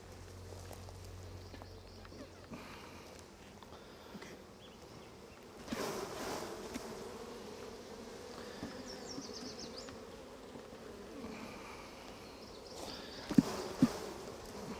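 Honey bees buzz around hive frames heavy with pollen, a faint, continuous drone with some handling knocks and rustles of the frames nearby.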